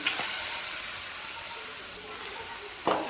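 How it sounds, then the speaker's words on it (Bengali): Mutton hits a pan of hot cooked spices and sizzles loudly and steadily up close, with a brief clatter at the start and near the end. "এবার আমি দিয়ে দিচ্ছি মটনটা।"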